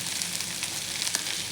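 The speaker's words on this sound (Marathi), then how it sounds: "इकडे आपला बटाटा आपण व्यवस्थित असा कढईमध्ये गरम करायला ठेवलेला आहे।" Leftover potato bhaji sizzles steadily as it heats in a kadhai, a continuous close frying hiss with faint crackles and no talk.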